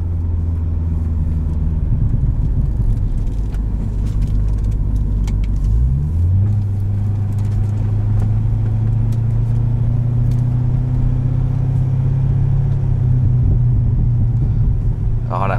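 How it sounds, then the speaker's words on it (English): Deep, low exhaust burble from a 2008 Chevrolet Corvette V8 with automatic transmission rumbling steadily nearby, its pitch shifting partway through as the idle settles. "I love the burbles too"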